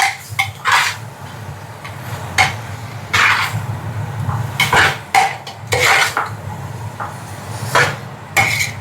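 A spoon stirs food in a metal cooking pot, making loud, close, irregular clanks and scrapes that repeat every second or so over a low steady background hum.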